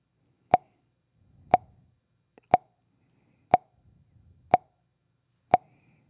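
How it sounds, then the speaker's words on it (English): Metronome set to 60 beats per minute, giving six sharp, evenly spaced clicks one second apart, close and fairly quiet against near silence, with faint low rustling between a few of them. "set the metronome to 60 beats per minute or 60 clicks"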